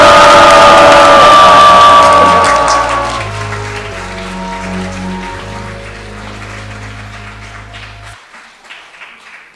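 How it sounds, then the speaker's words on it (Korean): A congregation at a Sunday service applauds and cheers loudly at first. The clapping then fades while a low sustained organ or keyboard chord carries on beneath it and dies away near the end. "다시 한번 힘찬 박수 부탁드립니다"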